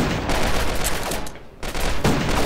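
Rapid bursts of gunfire in GoldenEye Source, a multiplayer shooter video game: dense, loud volleys with a brief gap midway before the shooting resumes.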